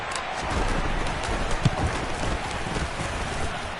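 Steady rain falls during an outdoor football game, a soft continuous hiss of drops with faint crowd murmur beneath it, fairly quiet throughout.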